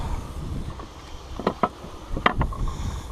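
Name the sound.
strong wind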